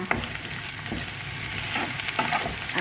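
Onion and garlic already fried in a pan, with ginger, cumin and garlic paste added for a coconut-milk chicken dish; a close, busy sizzle mixed with repeated stirring scrapes and no voices.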